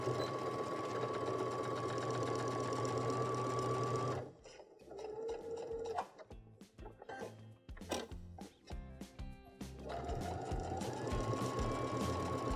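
A Baby Lock sewing machine with a five-hole cord foot stitching a vinyl pocket onto fabric, a steady close whirring run that stops midway for a few handling clicks and taps, then resumes.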